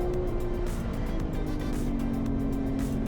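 Chevrolet Corvette being overtaken on the Laguna Seca circuit, its engine a steady droning tone that slowly falls in pitch, heard amid continuous road and wind roar, no talking.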